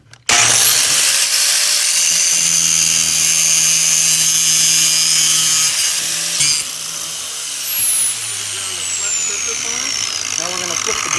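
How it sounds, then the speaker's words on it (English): A power tool held in a drill grinds a locking lug nut flat, a loud continuous high-pitched whine close by that shifts and dips in pitch near the end as the load changes. "we're going to go ahead and grind this side of this one off so that we have a flat surface"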